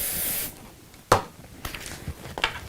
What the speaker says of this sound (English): It's positionable spray, so I can pull it apart if I need to. Then this bit is going to get sprayed as well.